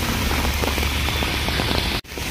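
Heavy rain in Delhi pours down in a dense, constant hiss close by, briefly cutting out near the end before resuming.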